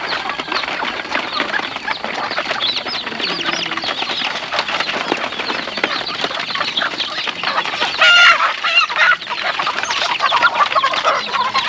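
Chickens cluck steadily and densely, close by, on a Thai rural homestead, with a brief burst of wing flapping or squawking partway through and no talk.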